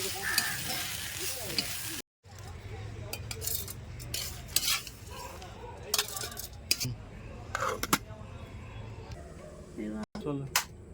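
Thiruvachi leaves are sautéed in a little oil in a pan while making thuvaiyal. A soft sizzle runs underneath as a spoon clinks and scrapes against the pan in scattered bursts.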